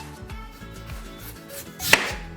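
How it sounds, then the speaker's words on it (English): A knife slices potatoes very thinly, a few soft rhythmic cuts against a board ending in one sharper, louder stroke near the end. The sound is close and quiet, with no talking. "I'm going to continue on slicing the remaining of my potatoes"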